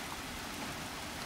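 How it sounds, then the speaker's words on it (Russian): Steady light rain falls during an evening thunderstorm, a continuous even hiss of drops that stays moderately quiet throughout, with no heavy downpour. "Дождик идет. Но пока не ливень."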